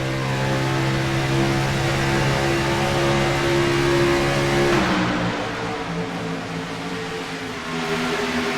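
Stock cars in an iRacing eNASCAR race at Atlanta Motor Speedway drone past in a dense pack, engines holding a loud steady tone that shifts in pitch midway as the field passes, with no voices.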